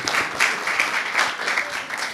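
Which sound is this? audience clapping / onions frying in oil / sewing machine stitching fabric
audience clapping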